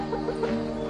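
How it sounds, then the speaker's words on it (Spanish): A rooster gives a few soft, close clucks in quick succession over a faint steady background. "¿Este gallo vive aquí?"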